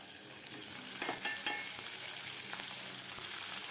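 Crushed garlic cloves and chopped green chillies sizzle in hot oil in a pan for potato bhaji, a steady close frying hiss with a few spoon stirs and scrapes.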